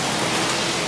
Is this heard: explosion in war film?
no